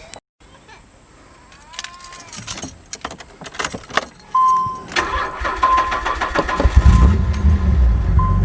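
Car keys jangle in a hand while being searched for, then a 1990s Nissan 300ZX Z32 engine cranks and starts, settling into a loud, rough idle from a known vacuum leak.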